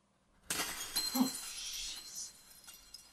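Glass shattering in the game Lost in the Rift, a single sudden bright crash followed by tinkling shards falling and fading over about two seconds, alone and close.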